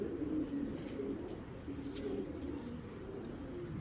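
Soft, low pigeon cooing rolls on steadily in repeated murmuring calls, close and fairly quiet, from a fancy breed pigeon.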